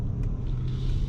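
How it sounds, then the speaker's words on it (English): A 2022 Mercedes-Maybach S580 V8 engine hums low and steady from inside the cabin while accelerating, smooth and quiet with faint wind noise, no voices. "the car accelerates that much more smoothly"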